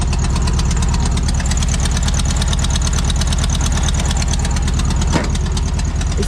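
A VW Beetle 1302 with a 1600 engine runs after starting, a close, steady, rhythmic idle chug with a slightly knocking beat and one brief clank partway through.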